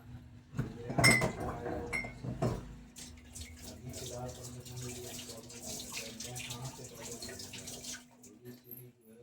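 Peanuts being washed in water at a kitchen sink, with splashing, clinking of the bowl and running tap water, loudest at the start and then a steady swishing wash.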